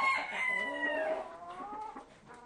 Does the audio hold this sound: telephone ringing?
no